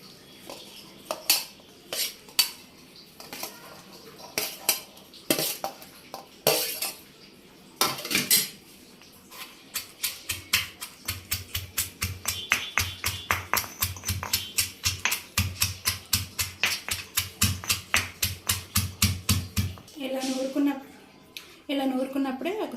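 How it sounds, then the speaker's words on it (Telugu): Green chillies are ground for a roti pachadi. Scattered knocks give way to a long run of fast, even grinding strokes close by, and a voice is heard briefly near the end. "ఫస్ట్ పచ్చిమిరపకాయలు వేసి నూరుకుందాం"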